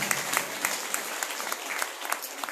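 A crowd at a Srimad Bhagwat Katha gathering in a temple applauds the sound system crew with thick, continuous clapping, close and loud from start to end.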